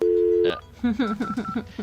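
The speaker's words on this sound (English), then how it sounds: "this is the segment where we call Keith on the phone." A telephone call is placed: a steady tone cuts off, followed by a quick series of rhythmic ringing or dialing pulses, loud and close.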